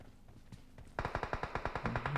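Rapid automatic gunfire in the video game PUBG Mobile: a close, loud burst of about a dozen evenly spaced shots begins after a quieter moment and keeps up a steady, rattling rhythm.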